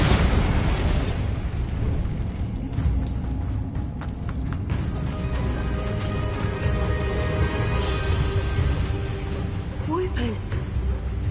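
An explosion from the Bombarda spell in the video game Hogwarts Legacy, a loud broadband burst and rumble that lingers as a dense roar under an overlapping voice.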